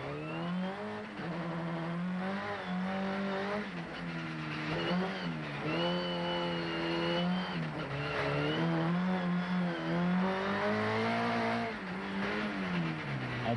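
A rally car slides sideways downhill through a hairpin on the Lans-en-Vercors ice circuit in the 1998 Trophée Andros, its engine revving hard and steadily with rising and falling pitch, loud and close throughout.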